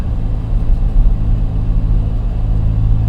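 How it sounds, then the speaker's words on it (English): A 2026 Ford Raptor's EcoBoost engine, running Baja exhaust mode on 37-inch tires, accelerates on the road with a loud, steady low rumble filling the cabin, no talk over it. "So acceleration is great."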